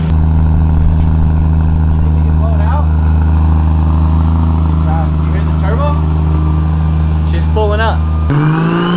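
A Toyota MK3 Supra with a 1JZ engine and full custom exhaust plus intercooler idles loud and close with a deep steady drone, then the note drops abruptly near the end, with brief voices over it.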